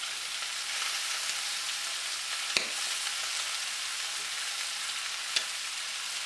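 Pork belly sizzles on scallion and ginger over medium heat, a soft, continuous frying hiss with two brief clicks from the pan along the way.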